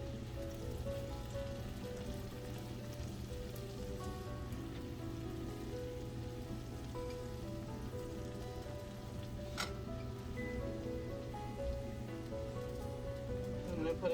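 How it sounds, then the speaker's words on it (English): Garlic sautés in garlic butter and oil in a pan, giving a gentle, steady rain-like sizzle that holds evenly throughout at low volume. "I've got the garlic butter, the oil, and the garlic in here. I'm just gonna saute that up a little bit."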